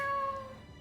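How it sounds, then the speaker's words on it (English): A cat meows in Tales of Xillia 2, a single short, clear meow with bright harmonic tones that fades out within a second. "That's my cat."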